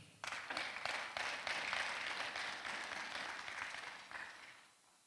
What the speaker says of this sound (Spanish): Su intervención la vamos a recibir cariñosamente con fuertes aplausos